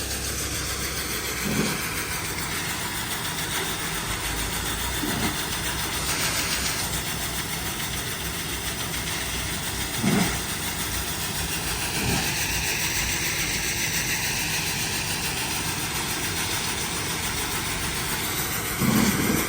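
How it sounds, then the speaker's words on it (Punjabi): Tractor engines running where maize is being gathered, cleaned and bagged at a Punjab grain purchase site: a steady mid-range engine drone throughout, with a few brief thumps standing out over the rumble. "ਆ ਦੇਖੋ ਇੱਧਰ ਵੀ ਟਰੈਕਟਰ ਇਕੱਠੇ ਕਰਨ ਦੇ ਆ ਮੱਕੀ ਨੂੰ"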